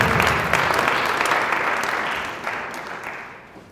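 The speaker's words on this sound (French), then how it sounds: "vous pouvez également applaudir pour eux" Audience applause at a live humour show in Bukavu, South Kivu: a dense crowd claps continuously for several seconds and slowly fades toward the end, with no voices over it.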